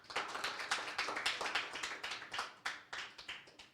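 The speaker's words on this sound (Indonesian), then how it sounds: "Tepuk tangan dong buat Tuhan." A church congregation clapping in praise of God, a fairly quiet, steady run of distinct handclaps in a loose rhythm, close and unaccompanied by talk.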